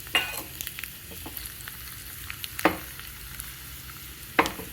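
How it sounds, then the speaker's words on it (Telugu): Tempering spices for Telugu pachi pulusu crackle and sizzle in hot oil, a steady low fry with a few sharp pops and clinks of a spoon stirring, close by and with no talking. "ఈ ఆయిల్ కాగిన తర్వాత ఇందులో తిరగమాత దినుసులు వేసుకోవాలండి"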